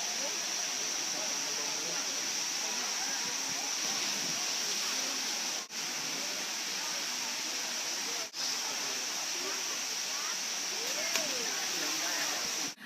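A tiered waterfall in Thailand, with pools below, pours with a loud, steady, broadband rush of falling water that fills the whole span without a break.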